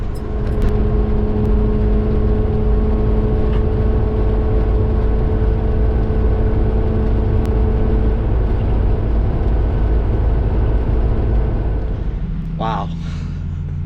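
A Bounder motorhome rolls downhill on a cold mountain road, its engine and road rumble loud and steady throughout with a sustained low drone, and a voice comes in near the end.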